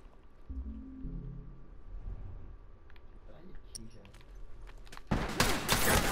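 Gunfire in the online multiplayer mode of The Last of Us, a dense burst of loud shots erupting near the end after a stretch of quieter game sounds and muffled talk.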